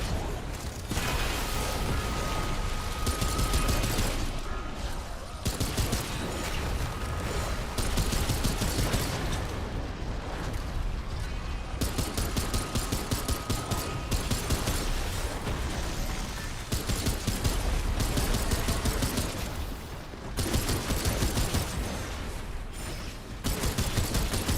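Handgun fire in the video game Remnant 2 comes in rapid, loud bursts, separated by short pauses and mechanical clicks, repeating throughout.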